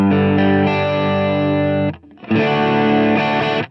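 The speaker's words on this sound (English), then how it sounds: "I love the sound of the transparent overdrive in my sound." Electric guitar played through a transparent overdrive pedal on a church worship pedalboard, two sustained, richly harmonic chords ringing out loud and alone, with a brief dip between them.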